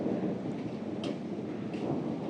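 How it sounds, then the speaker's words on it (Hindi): Thunder rolls through a heavy thunderstorm in Nainital, a steady low rumble over dense rain hiss, with a couple of brief sharper cracks standing out above the continuous downpour and no talking. "भयानक बिजलियाँ कड़क रही हैं"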